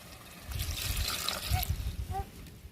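Water splashes and trickles into a pot of crab gravy with ground masala for a few seconds, a close, uneven pouring with some low clatter beneath.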